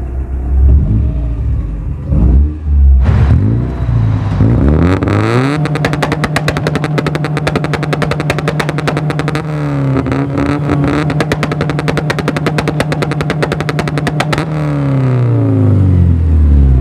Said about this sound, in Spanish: escuchen nada más cómo suena este auto